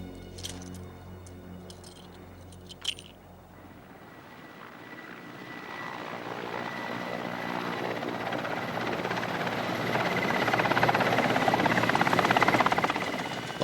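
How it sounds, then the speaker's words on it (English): A helicopter flies over a tiger-tracking search area, its rotor and engine roar swelling steadily from faint to loud as it draws nearer, with a few light clicks near the start and no voices. "Now they can only await the helicopter's return"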